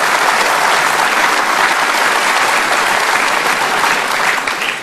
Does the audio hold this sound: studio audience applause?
yes